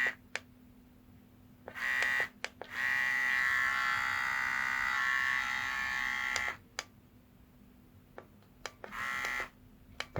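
Xiaomi Enchen Boost electric hair clipper switched on and off, a steady close buzzing hum running in three separate stretches with clicks and quiet gaps between them, no talk.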